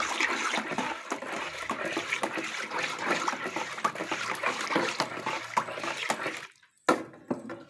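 Dissolved caustic soda is stirred into liquid soap, giving a faint, continuous sloshing and swishing of liquid in a container that breaks off briefly near the end.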